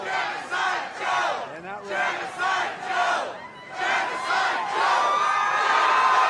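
A large rally crowd chants "Genocide Joe" in rhythmic bursts, a roughly once-per-second pattern of massed shouting that swells and dips, then builds into a louder, sustained roar near the end.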